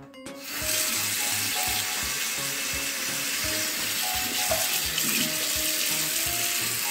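Water from a tap runs steadily into a clogged sink, a constant close splashing rush with a faint rhythmic knocking underneath.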